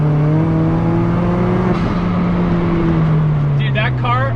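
Turbocharged 1.8-litre engine and exhaust of an MK2 Volkswagen Golf under hard driving, a steady droning harmonic note with rises in pitch, loud and close, with brief crackly bursts near the end.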